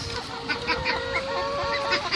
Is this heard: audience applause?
no